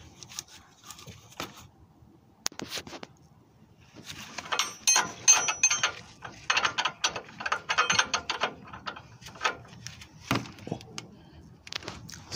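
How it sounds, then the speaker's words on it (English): A hand ratchet clicks in quick repeated bursts while screws are tightened during a car control arm installation, close and fairly loud, with pauses between runs of clicks. "just tighten up the screws and I'm good"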